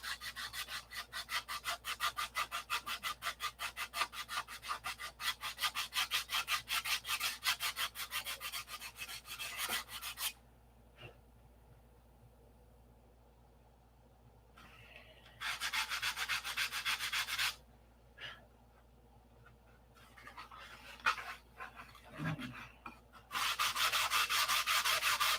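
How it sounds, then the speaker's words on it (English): Hand sanding of a wooden piece being straightened by eye, with long runs of brisk, steady rasping strokes broken by short pauses and a few light knocks, close up with no talking. "I'm just straightening this out and sanding it by eye."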